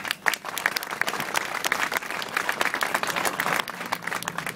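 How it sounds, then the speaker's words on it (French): A strike assembly audience at the Grandpuits refinery breaks into sustained applause: dense, steady clapping from many hands that fills the room evenly with no pauses. "on peut les applaudir"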